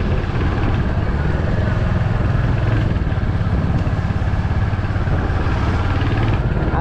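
A Royal Enfield motorcycle rides steadily with its engine running at a constant, loud, throbbing pitch, mixed with wind rush throughout and no talking.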